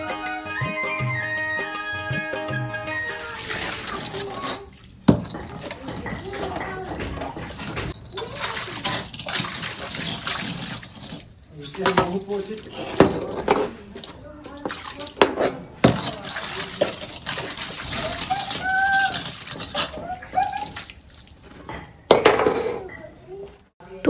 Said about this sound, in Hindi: तो बालू लगाकर साफ़ करते हैं